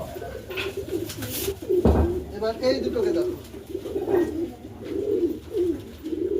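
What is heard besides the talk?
pigeons cooing, a female and a male pigeon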